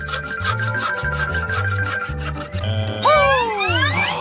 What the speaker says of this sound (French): je sais ce qui va m'aider. Une scie.